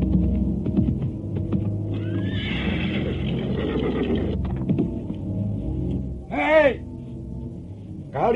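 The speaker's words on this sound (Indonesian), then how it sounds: "Aku mendengar derap kuda menuju kemari." Horses' hoofbeats approach with a muffled, throbbing rumble beneath a dense layer of music and ambience, and a loud whinny rises near the end.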